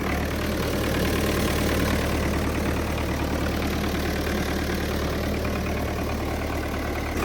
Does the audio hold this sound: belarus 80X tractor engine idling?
yes